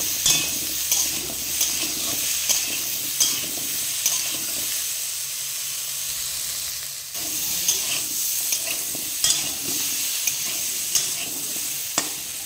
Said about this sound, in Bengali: এবার কিছুক্ষণ এটাকে ভেজে নেব ভালো করে।